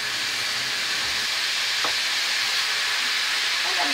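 Tomatoes sizzle and fry in a hot pan, a continuous bright hiss lasting throughout with a faint stir partway through.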